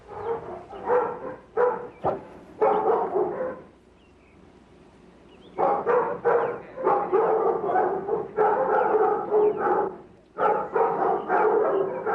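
A female black Labrador barks in loud, repeated bursts of bow-wow, with several clusters of barks broken by a pause of a few seconds, close by and with no talk over it.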